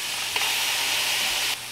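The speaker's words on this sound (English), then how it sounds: "Let's throw some shrimps on here. Oh man, look at that buddy sizzling." Shrimp sizzle on a dry granite-coated pan with no oil, giving a steady, close hiss with no other sound over it.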